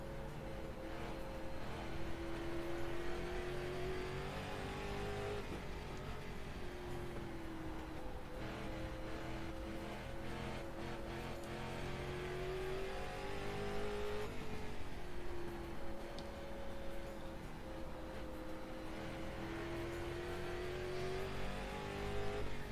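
Street stock race car engines in iRacing at South Boston Speedway, a continuous droning engine note rising and falling in pitch as cars circle the track, steady and moderately loud without talk.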